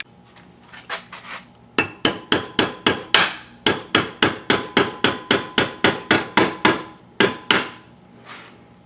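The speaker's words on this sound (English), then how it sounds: "I'm going to go stick it in the vise and put a little bend in it just to be safe." Repeated sharp hammer blows strike a washer clamped in a vise, bending it for a custom VHF amplifier rack in a truck; about twenty close, loud metallic whacks in a steady rhythm, with a brief pause midway and no talking.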